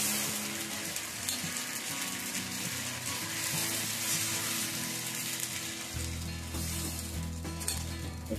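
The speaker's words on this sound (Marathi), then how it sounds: "दुसरे घावन आपण असं टाकून देऊ" Rice-flour ghavan batter hits a hot pan and sizzles steadily, a continuous close frying hiss that carries on without a break and with no talking.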